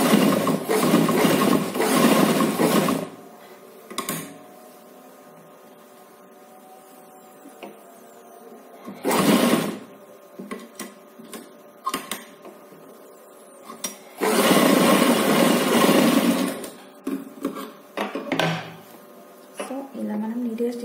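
A sewing machine stitching fabric for a baby frock runs in several short bursts, loud and close, with pauses between them where a person talks.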